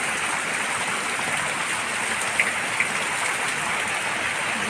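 Heavy rain drums down in a steady, loud wash, with a couple of faint taps standing out briefly near the middle.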